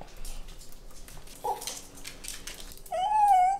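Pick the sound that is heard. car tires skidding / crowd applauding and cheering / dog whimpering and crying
dog whimpering and crying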